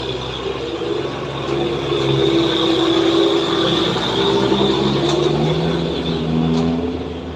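A Hino truck nicknamed Bujang Marantau drones steadily on the Sitinjau Lauik road, its engine a loud continuous hum with low tonal rumble and faint squeals, no talk present.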